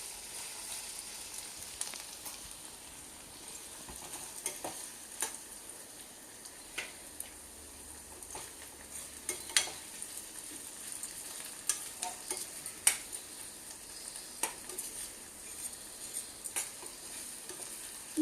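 Onions fry with ginger garlic paste in a pan, a soft steady sizzle under repeated light scrapes and taps of a spoon stirring, with no talk.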